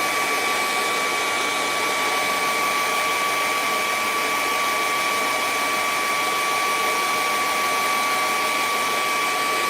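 A hair dryer blowing on wet paint on a canvas: a loud, steady whirring blast with a constant high whine, running unbroken throughout.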